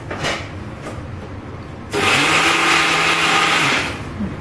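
A kitchen mixer grinder whirs loudly while grinding coriander into spice powder, starting with a sudden roar after a couple of faint taps, holding a steady motor whine for about two seconds, then winding down.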